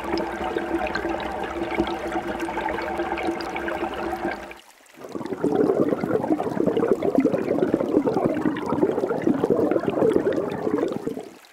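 Creek water recorded underwater through a submerged pipe, a continuous gurgling, bubbling rush with a droning tonal hum that cuts out briefly before a denser, busier churn of water resumes.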